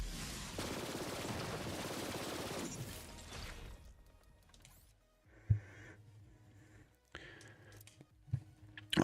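Companion gunfire in a Borderlands game, a dense rattle of automatic shots at first that fades out, followed by a few sharp, isolated pops and thuds over a quieter background.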